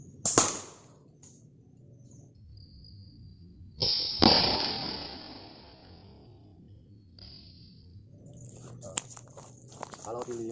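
A balloon pops when a projectile fired from 10 meters hits it, giving a sharp crack near the start and another burst around the middle, with quiet voices talking in between.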